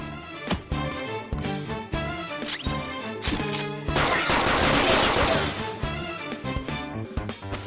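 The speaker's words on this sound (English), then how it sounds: "There are plenty of instances where rapid fire is going to be more useful than swinging your knife" Rapid gunfire from a gun in the video game Persona 5 Royal, a loud sustained burst of shots in the middle, set among game music and sharp effects before and after.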